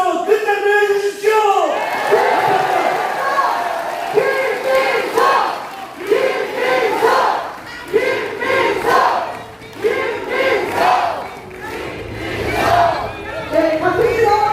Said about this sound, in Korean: 김민석 당대표에게 다시 한번 큰 박수와 함성을